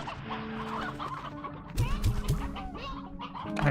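Chickens cluck repeatedly in the video game Slime Rancher 2, a busy overlapping chorus of close, clucky calls over a steady background of game ambience.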